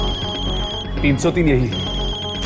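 Mobile phone ringtone ringing in a horror drama scene, a bright electronic tone sounding under a voice speaking, over steady background music.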